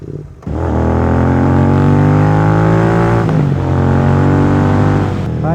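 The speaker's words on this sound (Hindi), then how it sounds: "मोटो टॉर्क का एग्जॉस्ट है।" Royal Enfield GT 650 motorcycle fitted with a MotoTorque exhaust, its parallel-twin engine revving loud and close after a brief quiet start, holding a steady throaty drone with a slight dip midway before settling back.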